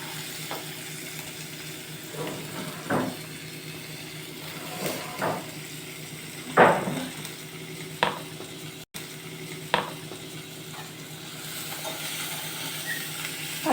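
Vegetable fried rice is stirred in a hot pan over a soft steady sizzle, with scattered clinks and scrapes of a utensil against the pan at irregular intervals.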